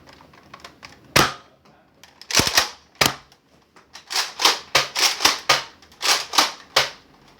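A Nerf blaster slam-fires foam darts in bursts of sharp, clacky snaps, some isolated and others in quick clusters. The shots are close and loud against a quiet room.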